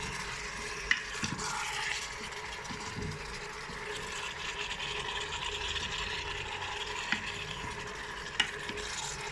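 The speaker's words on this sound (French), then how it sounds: "j'ai mis le reste de viande, donc ça colore. J'ai rajouté un peu de carottes." Meat and carrots browning in a Cookeo multicooker on its browning setting: a steady sizzle of frying throughout, with occasional clicks and scrapes of stirring.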